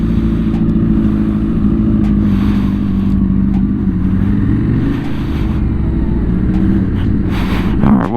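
A Honda CB750 Hornet motorcycle engine runs loudly and steadily close by, with a dip and rise in pitch as it shifts into gear and a faint clunk near the end.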